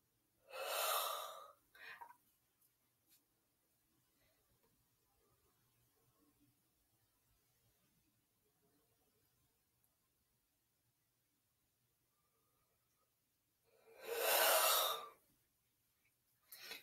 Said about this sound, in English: Yawning is contagious.